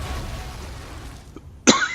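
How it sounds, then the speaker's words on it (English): A single short cough bursts out near the end, close and fairly loud, after a couple of seconds of low background noise. "I'm coughing right at you folks"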